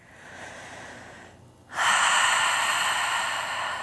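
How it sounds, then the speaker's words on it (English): A deep, audible breath is drawn and released while resting in the final posture of a gentle spine-care yoga session, a quiet exhale followed by a louder, sustained breathy rush. "Take 2 extra big breaths."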